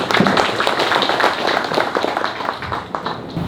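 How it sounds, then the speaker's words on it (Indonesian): A crowd at a village gathering in Mirit, Kebumen, breaks into dense, steady applause for the village heads, lively and close, with the clapping sustained throughout. "Tepuk tangan buat semuanya."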